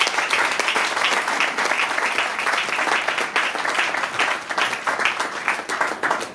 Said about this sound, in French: acclamer encore une fois de plus pour Madame